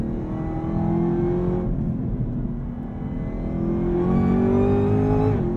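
A 2023 Chevrolet Camaro ZL1 with a 10-speed automatic in track drive mode accelerates hard, its engine note rising steadily as the gearbox holds gear, then dipping briefly before climbing again, loud and continuous with no talk.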